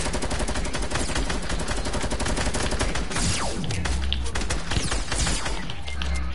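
Sustained, loud gunfire from a PS4 shooter game, a dense fusillade of rapid shots and bursts filling the whole stretch with game chaos, with a sniper headshot in the exchange.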